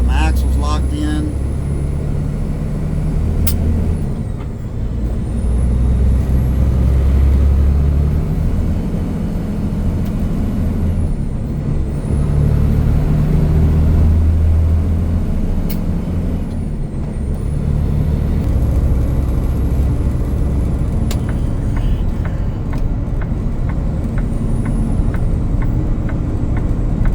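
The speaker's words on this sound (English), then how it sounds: "See, I'm still spinning out though. Got my axles locked in." A vehicle with locked axles spins its wheels on a sheet of ice. A loud, sustained engine roar carries a high whine that rises and dips at intervals as the tires slip, heard close throughout.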